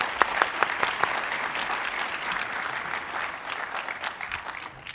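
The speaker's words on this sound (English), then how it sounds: "So how about a round of applause for our moderator," A lecture audience claps for a moderator in a full, continuous round of applause, with a few sharp nearby claps standing out at the start before the sound settles into an even wash that tapers off slightly at the end.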